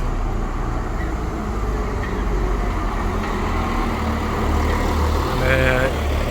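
A McLean's coach bus idles loudly and steadily at a Glasgow bus museum, a constant low diesel rumble that swells slightly toward the end, with some talk nearby.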